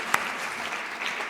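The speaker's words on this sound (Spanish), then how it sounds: "Doble aplauso" Medical conference audience applauding, a brief steady wash of many hands clapping at moderate distance, with no talking over it.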